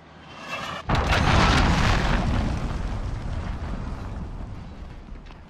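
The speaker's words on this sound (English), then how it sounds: "Cruise missile launched." Cruise missile strike in the Call of Duty beta, a faint rising whoosh followed by a sudden heavy explosion that roars loudly, then rumbles and slowly decays over several seconds.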